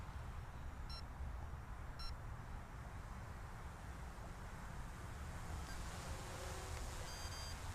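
A Traxxas Aton drone gives two short, faint electronic beeps about a second apart as it switches into sport mode during a night flight, with steady wind and motor noise filling the background.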